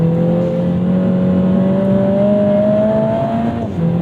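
A Lotus Emira Turbo with a Mercedes-sourced four-cylinder turbo engine revs up steadily, a loud close whining drone climbing in pitch before a brief dip at the end.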